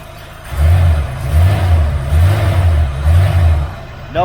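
A 1978 V8 Chevrolet Nova hot rod with headers and a new true dual exhaust idles close by, its deep exhaust note swelling and easing in four regular pulses as if blipped lightly.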